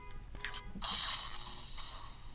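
A Samsung Galaxy Note 10 Plus Star Wars special edition S Pen slides out of its silo with a soft mechanical click followed by a brief bright electronic tone, quiet and close.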